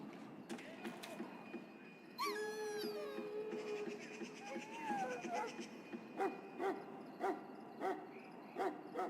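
In the Dragon Age Origins video game, a sick dog in a pen whimpers and whines with thin, rising and falling cries, faint against a quiet background, followed by a series of short repeated whimpers toward the end.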